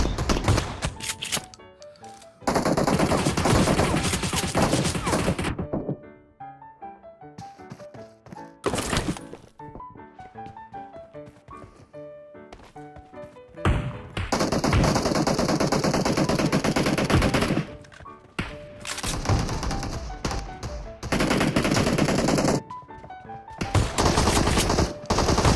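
Rapid automatic gunfire in a mobile shooter team deathmatch set in a library map, with loud bursts of rattling shots broken by short pauses and a few single cracks.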